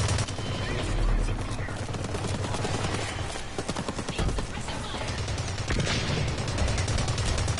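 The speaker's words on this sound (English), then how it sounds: "That's the assault rifle, that one." Assault rifle gunfire in a PS4 shooter: rapid automatic bursts with dense, continuous shots amid other battle noise, loud and close, with a player talking at times.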